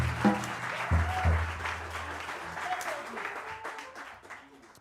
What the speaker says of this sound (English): let's affirm that with a big applause